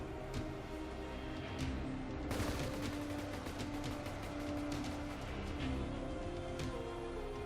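Dense distant gunfire barrage from massed German troops battling a T-Rex army in Ultimate Epic Battle Simulator, a continuous crackle of overlapping shots with sharp individual cracks rising out of the din throughout.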